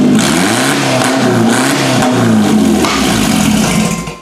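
A 2011 Subaru Outback with aftermarket headers revs hard, its engine note rising and falling in wavering surges with a loud, close, raspy exhaust throughout.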